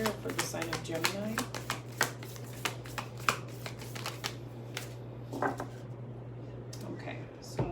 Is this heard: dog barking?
no